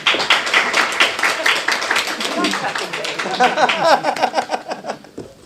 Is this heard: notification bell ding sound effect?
no